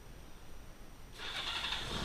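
Quiet background, then a car engine with 59,000 miles turns over and catches about halfway through, settling into a steady running rumble.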